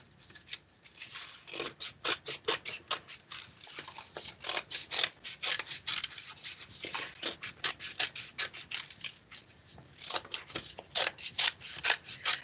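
Scissors snip through paper while a Thanksgiving turkey craft is cut out, with a steady run of crisp, close cuts that keep a fairly even rhythm and carry no talk.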